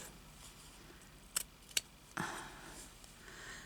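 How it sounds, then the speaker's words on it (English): Two crisp scissor snips cut a small piece off craft material, followed by a brief rustle as the piece is handled, in a quiet room. "actually going to cut a bit off that to have a small piece"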